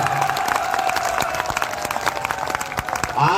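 Crowd at a rally clapping, a steady dense patter of many hands that holds at an even level throughout, with faint voices mixed in.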